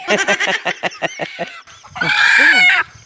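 Close, rapid chicken clucks in a quick rhythmic series, followed by a rooster's loud crow.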